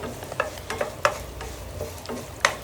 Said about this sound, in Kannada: ಒಂದು ಸ್ಪೂನ್ ಉದ್ದಿನಬೇಳೆ ಮತ್ತು ಒಂದು ಸ್ಪೂನ್ ಕಡಲೆಬೇಳೆ ಹಾಕಿ ಸ್ವಲ್ಪ ಫ್ರೈ ಮಾಡ್ತೀನಿ